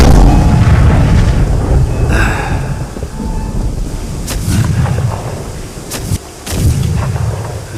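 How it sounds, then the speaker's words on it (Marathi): Cannons fired at a Shiv Jayanti stage performance, rolling booms and heavy rumbling blasts filling the air loudly, with sharper bursts near the end. "तोफा वाजवा, तोफा वाजवा."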